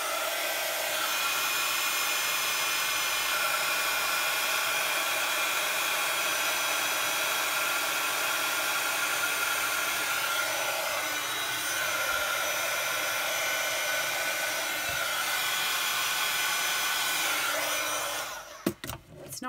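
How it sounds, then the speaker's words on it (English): Heat tool blowing hot air to dry cardstock for a papercraft box, a steady loud whooshing roar held for most of the time before it is switched off with a few clicks. "I'm just going to grab my heat tool just to quickly dry those off"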